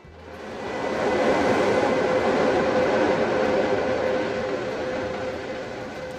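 An inline ventilation fan spins up quickly from 25% to 100% speed, then blows with a steady, loud whooshing roar and a faint constant hum underneath.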